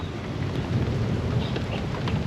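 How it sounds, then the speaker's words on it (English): A thunderstorm with steady rain at a campground near Badlands National Park, heard as a loud, continuous wash of rainfall with low rumbling thunder and some wind, and no voices. "We made it back to the campground just in time for another storm."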